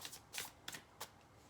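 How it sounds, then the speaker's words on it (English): Tarot cards are shuffled by hand in a few quick, soft riffling bursts with short pauses between them. The sound is faint and close, with no talking. "look at me still shuffling these cards"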